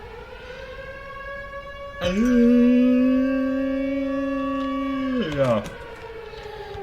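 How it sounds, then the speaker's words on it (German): Civil defense siren in the video game Drug Dealer Simulator, a rising wail that holds a steady loud tone for about three seconds and then falls away, with someone speaking briefly over it. "Ah, die Sirene."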